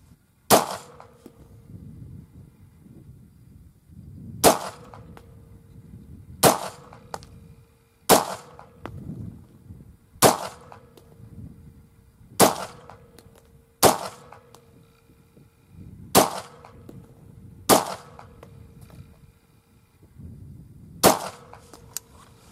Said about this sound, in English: With the AR-15, I moved the target out to 50 yards and shot about a 5-inch group